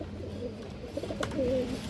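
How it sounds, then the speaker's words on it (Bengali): A lively silver pigeon held in a hand gives soft, low coos close by, with a brief clearer call near the end over a steady background hum; no one speaks. "এই যে কবুতরটা দেখেন দর্শক"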